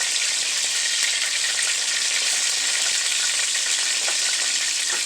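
Chicken pieces frying in a pan for a stew, a loud, steady, close sizzle of hot oil that runs unbroken without any talk.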